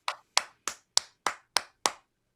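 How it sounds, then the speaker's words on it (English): Seven sharp, evenly spaced hand claps ring out close and dry, a short crisp burst of applause with no talking. "Round of applause for all the players."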